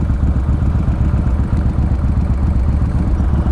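A Yamaha Roadstar Warrior 1700 cruiser motorcycle sits idling nearby, a loud, steady low rumble with an even throbbing pulse and no other sounds over it.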